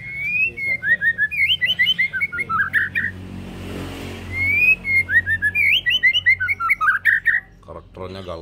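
A white-rumped shama (murai batu) sings loud, close whistled phrases in two bursts of rapid, sweet chirps and trills, with a quieter pause between them.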